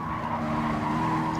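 A racing car braking hard in Gran Turismo Sport, with a loud, steady tire squeal held for a moment under an engine drone.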